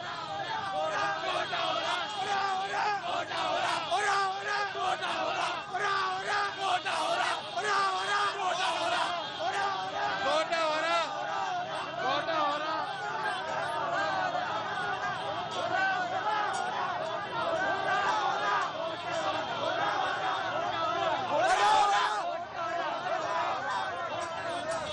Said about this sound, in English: The crowds want to be heard.